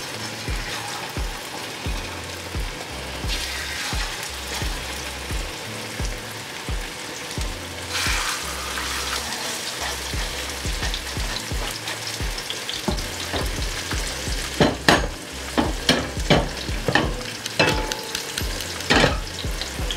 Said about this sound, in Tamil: இப்போ நாங்கள் பிரட்டி வச்சிருந்த மீனை பொரிக்க போடலாம்.